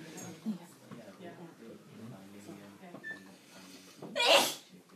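One short sneeze bursts out near the end, loud and close, following a stretch of people talking quietly.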